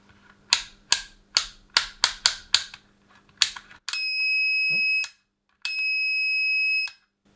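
A faulty Draper DMM200 multimeter lets out a rapid run of clicks, then a loud steady continuity beep that holds for about a second, stops briefly and sounds again, as if stuck on.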